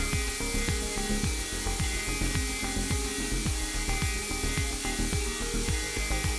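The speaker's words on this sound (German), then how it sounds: "Mit dem 8 mm Schlichtfräser wird nun die Halstasche ausgefräst." A Felder HNC 47.82 CNC machine with an 8 mm finishing cutter mills the neck pocket of a wooden jazz bass body, a loud whining drone with a fast repeating pulse that continues without a break.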